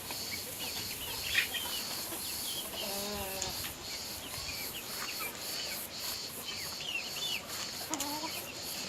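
Chickens and chicks peck at watermelon, their soft clucks and chirps scattered at low level over a steady background hum, with occasional louder calls.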